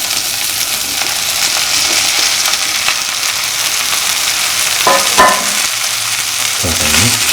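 Raw plantains sautéing in a pan with Kashmiri chillies and salt give a steady, close sizzle throughout, with a few spatula scrapes and knocks toward the end.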